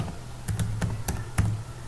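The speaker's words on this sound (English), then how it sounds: "Type the name of folder at the cursor's position." Keys on a computer keyboard are struck in a quick, uneven burst of about seven crisp, close clicks as a folder name is typed.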